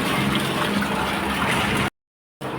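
Water poured steadily into a cooler, a continuous close rushing and gurgling stream that stops abruptly and then resumes, with no voices.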